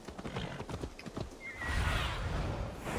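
A war Pegasus mount in Assassin's Creed Valhalla, its hooves clip-clopping in a steady rhythm before it gives a loud, drawn-out neigh near the end.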